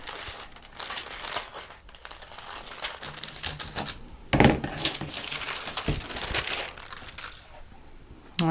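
Paper is folded and cut to cover a pastel painting, with close, continuous crinkling and crumpling, then crisp rustles and a sharper cutting sound midway.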